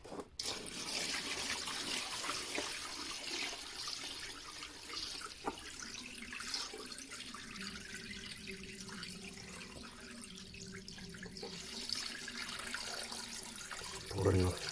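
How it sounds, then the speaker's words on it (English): Settled water being poured off from the clay sumps in a pottery studio on a bright January morning, a steady running and splashing pour that continues throughout, close and fairly even, with a brief clunk near the end. "Pouring off the water from my sumps after it's settled"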